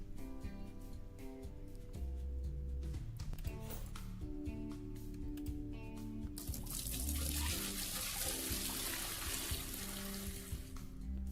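Water pouring to fill a glass aquarium in the game Aquarist: a continuous splashing stream that swells into a brighter, hissing rush partway through, quiet and steady, with background music beneath.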